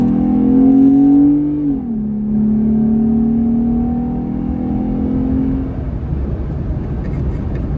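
A Jeep Gladiator fitted with a cold air intake accelerates hard, its engine a loud, close droning growl that climbs in pitch, dips with a gear change, then climbs again before settling into road rumble.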